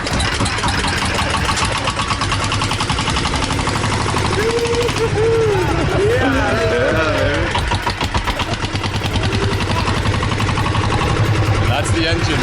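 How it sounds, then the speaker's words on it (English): An engine at an ocean facility in Bali idles and revs loudly and steadily up close, with a rattling mechanical drone and voices talking over it. "That's the engine right there."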